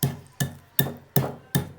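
Chicken curry masala is pounded in a village stone mortar, five heavy, evenly spaced thuds close to the microphone.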